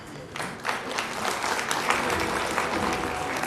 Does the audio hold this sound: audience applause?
yes